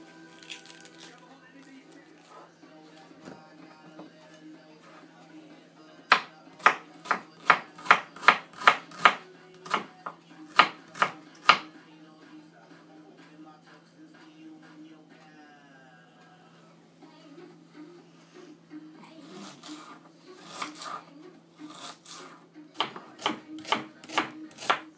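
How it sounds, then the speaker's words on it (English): Peeled onions being chopped into small squares on a board, a quick run of crisp knife taps in two bursts, with quieter stretches of faint background sound between them. "Peel them, then chop them into small squares"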